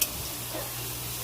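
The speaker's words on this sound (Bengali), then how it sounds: "এখানে 5 রকম ভাজা যেটা করা হয়েছে ওটা ভেজে তুলছি" Five kinds of fish fritters frying in a pan, with a soft, steady low sizzle close by and one brief clink at the very start.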